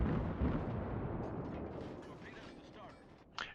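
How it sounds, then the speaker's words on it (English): A ship explodes in the naval combat video game World of Warships: a heavy, rumbling blast that slowly fades over several seconds, ending with a sharp crack. "Pretty much the same as for the new sounds for the ship explosions"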